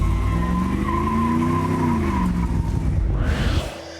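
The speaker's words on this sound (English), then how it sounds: "Only one wheel spinning." Truck tires squealing as a single wheel spins, with a loud, steady screech and engine roar for about three seconds before it cuts off abruptly; from a Ford Lightning versus Chevy 454 SS muscle truck grudge match.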